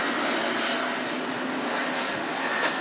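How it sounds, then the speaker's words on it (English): A fixed-wing airplane passes overhead, its engine roar a steady, fairly distant drone that holds evenly throughout with no other sounds. "Airplane."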